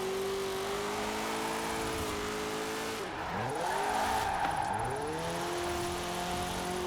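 Car engine in the Forza Horizon 4 racing game revving steadily on a low-budget wheelspin drift build, its pitch dipping and climbing through gear changes, with tire noise rising midway as it gathers speed.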